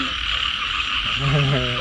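A dense chorus of frogs croaks in a rice field soaked by heavy rain. The calls overlap continuously over a steady wash of rain, and a louder, nearer croak rises toward the end.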